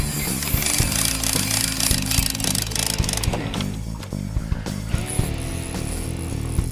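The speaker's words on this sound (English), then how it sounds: "Downrigger going off." A fishing downrigger goes off on a barge at sea, a rapid ratcheting click of line running out under loud, busy mechanical and outdoor noise, close and continuous for several seconds.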